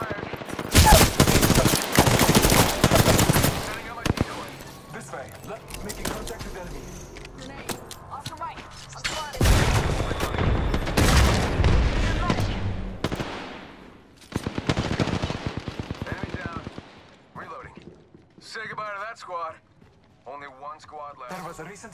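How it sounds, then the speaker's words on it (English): Rapid bursts of automatic gunfire and single shots ring out during an Apex Legends battle, loud and close, trailing into scattered shots and game sounds while voices talk over the action. "Shot fired."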